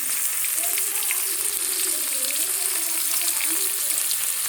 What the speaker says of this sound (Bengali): মাছগুলো দিয়ে দিছি ভেজে নিই ভালো করে